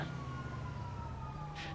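An ambulance siren in a modded GTA V game, a faint, steady tone that drifts slowly downward under a constant background hum.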